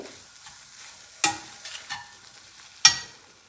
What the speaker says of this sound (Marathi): आता हे आपल्याला बेसन याचा कच्चेपणा जाईपर्यंत चांगलं भाजून घ्यायचं आहे